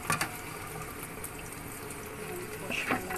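A water filter is rinsed under a running tap, with steady faucet flow splashing into a sink close by and brief spattering bursts near the start and end.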